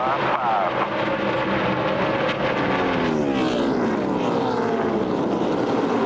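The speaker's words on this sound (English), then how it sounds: "The new tire cars racing up 3 wide in the middle of the pack as Matt Kenseth comes off turn number 4" NASCAR stock cars run three wide in a pack at the 2006 Auto Club 500, a loud continuous engine roar with rising and falling passing sweeps under race commentary.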